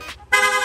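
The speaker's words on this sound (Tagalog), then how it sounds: "Long press lang po natin yung horn switch, yung busina natin, magsusunod-sunod na po yan." Yamaha Aerox 155 scooter horn set to rapid mode sounding in a loud, sustained buzzing tone, preceded by a brief short beep, close to the microphone with no talking.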